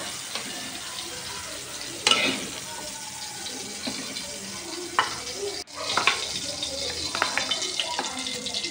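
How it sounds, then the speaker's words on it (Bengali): Tomatoes frying in a pan give a soft, steady sizzle, with scraping stir strokes and an occasional sharp clack of the utensil against the pan. "টমেটোগুলো ভেজে নিচ্ছি"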